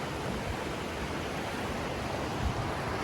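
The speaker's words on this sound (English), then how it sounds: "here's the other side of the river" River water flows steadily along a mountain trail, a constant broadband rush heard moderately loud and unbroken with no voices.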